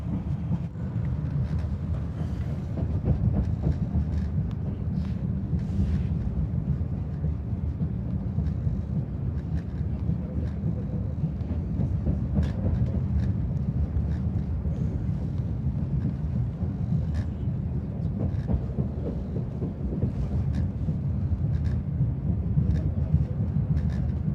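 Constant low rumble and hum inside a high-speed train from Samarkand to Bukhara, Uzbekistan, steady and fairly loud, with faint rattles and clicks scattered throughout.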